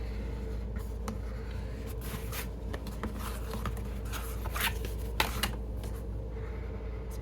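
A bone folder creases paper around the spine of a planner cover, giving soft scraping and rubbing strokes with scattered crisp paper crackles, close and steady over a faint background hum.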